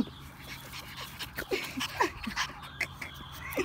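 Small whimpers and yips from a 10-week-old French Bulldog puppy, soft and close, scattered in brief bursts over a low background.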